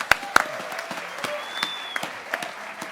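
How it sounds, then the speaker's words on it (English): Scattered applause from an awards luncheon crowd greets a Raiders offensive lineman, with a few sharp nearby claps standing out over a softer, thinner patter and faint room murmur. "Clap it up."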